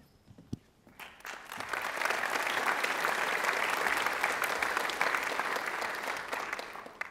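Audience applause at a secondary school awards celebration, rising after a brief quiet start into sustained, dense clapping that fills the hall for several seconds before easing slightly.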